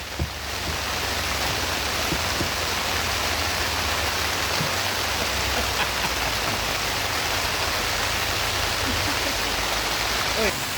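Heavy rain pours down in a dense, continuous hiss that stays loud and even throughout, with no distinct voices standing out.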